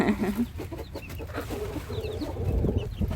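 Hens cluck and murmur in a countryside yard in the morning, with several soft, overlapping clucks and occasional higher calls over a close, continuous outdoor background.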